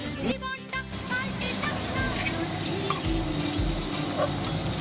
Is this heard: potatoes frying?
yes